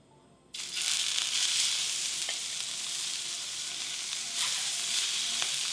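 Sweetbreads drop into smoking-hot oil in a pan, bursting into a loud, steady sizzle after a quiet moment, with faint scraping and a brief swell later on.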